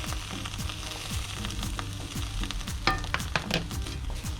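Chicken tikka masala sizzling steadily in a hot pan as tomato puree is stirred in, with close scraping and stirring strokes over a constant fry and a few sharper clinks near the end.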